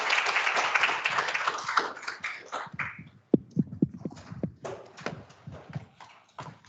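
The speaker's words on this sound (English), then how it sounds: "let's just give a round of applause for Kristen for an impressive" A round of audience applause at the close of a scientific talk on cancer vaccines, a dense patter of many hands that thins out into scattered separate claps, with no voices over it.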